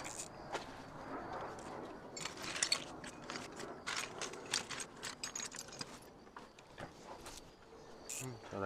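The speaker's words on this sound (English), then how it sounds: "We'll find a better socket wrench." A socket wrench ratchets on a car battery terminal while the battery is disconnected, giving faint, rapid clicking bursts at close range, mixed with handling noises.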